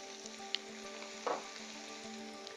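Potatoes and broccoli frying in a pan give a soft, steady sizzle over a faint hum. It is broken by a sharp tap and a brief scraping stir, and nobody speaks.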